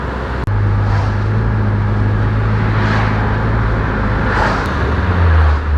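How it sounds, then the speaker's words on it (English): Mitsubishi Lancer Ralliart with its turbocharged engine running, a steady close engine drone with a faint whistling rise of the turbo spooling, a sharp click near the start and a louder push near the end. "You can definitely hear the turbo spooling up"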